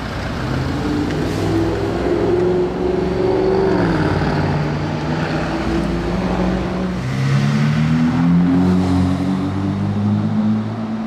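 Loud engine roar from a GMK-tuned Audi RS6 accelerating on the streets of Monaco, rising and shifting in pitch through gear changes, sustained and close with no talking.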